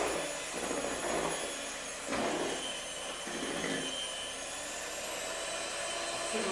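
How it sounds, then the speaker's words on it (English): Electric hand mixer whirring steadily through chocolate cake batter, a continuous motor drone with brief surges as the beaters dig in, close and fairly loud, no talking. "Mix it all up again with our mixer"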